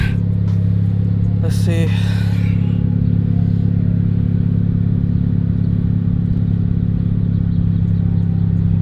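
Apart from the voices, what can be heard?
2017 Honda Civic Type R engine idling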